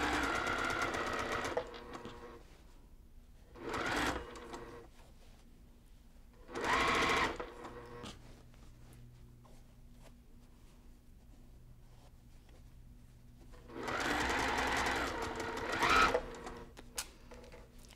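A sewing machine stitching pillow fabric runs in several short bursts of steady whirring hum, with quiet pauses between runs and a faint low background drone throughout.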